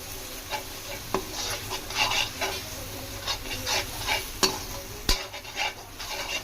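Garam masala chicken frying in a thick, heavy kadai while a spoon stirs and scrapes through it, a low sizzle under repeated scraping strokes and two sharp clinks of metal on the pan.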